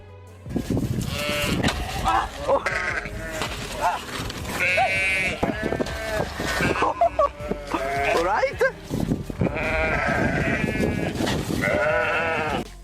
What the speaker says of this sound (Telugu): ఆ గొర్రెల్లో ఒక గొర్రెకు కోపం వచ్చి అతని పైన దాడి చేయడానికి చూస్తుంది